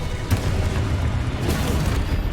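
Explosive spell blasts in the Hogwarts Legacy video game: a dense, continuous run of deep rumbling booms and bursts, loud and close, with sharper hits standing out from the roar.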